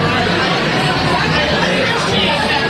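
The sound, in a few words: crowd waiting to see presidential candidates in Iowa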